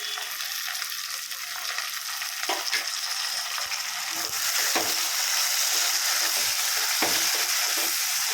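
Tomatoes sautéed in a pan for Chennai-style chicken biryani, a steady bright sizzle that grows slightly louder, with occasional stirring knocks.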